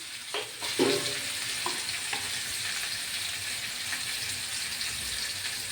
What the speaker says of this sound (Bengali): এখন নেড়ে চেড়ে ভালো করে এটা ভেজে নেব।